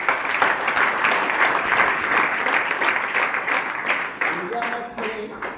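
Church audience applauding for a bishop, heard as a sustained dense patter of many hands clapping, with a voice speaking over it near the end.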